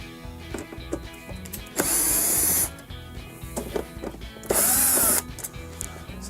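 A power screwdriver backs T20 screws out of a Samsung dishwasher door in two short, loud whirring bursts a few seconds apart, over a low steady background hum.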